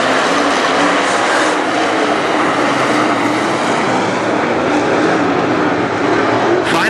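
WISSOTA Late Model race cars roar around Granite City Speedway, a dense, loud, continuous engine rumble from a pack of cars at the dirt oval.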